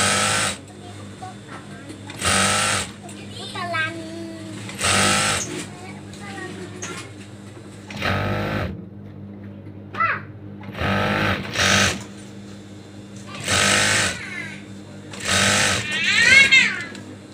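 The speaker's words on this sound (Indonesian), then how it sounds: "terus kita masukin ke si sepatu mesinnya" Electric sewing machine stitching the edge of a fabric cover for a water gallon, running in several short bursts of rapid whirring with pauses between, and someone talking in the gaps.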